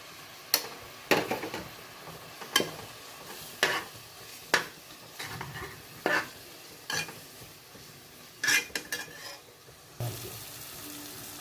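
Onions sautéing in a pan for Chettinad chicken masala, a soft sizzle underneath repeated sharp scraping strokes of a spoon stirring at roughly one-second intervals, close up with no talking.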